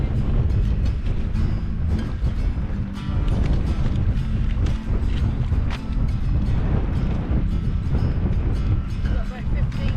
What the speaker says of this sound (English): Wind's picking up, isn't it?